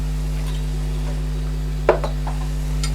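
Brown sugar and Naga pickle being stirred into a dish: faint scraping and soft clinks of a utensil against a pan over a constant low hum, with one sharper knock near the middle.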